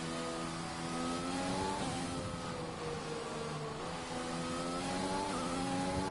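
A race car in a sim racing game threads the S-Bends at Suzuka, its engine whining at high revs and dipping with each gear change and corner, steady and close throughout with no talk.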